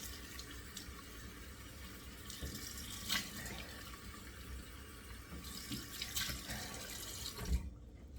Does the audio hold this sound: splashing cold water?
yes